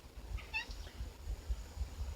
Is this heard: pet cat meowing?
yes